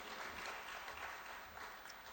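An audience claps steadily through a speech on Rwanda's economy, a dense, even wash of applause from a crowd with no voices standing out.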